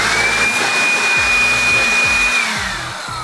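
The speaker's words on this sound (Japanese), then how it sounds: "いや、この掃除機マジ便利。" A handheld vacuum cleaner used for DIY workshop cleanup while building a height gauge from scrap wood runs with a loud, steady whine up close, then trails off near the end.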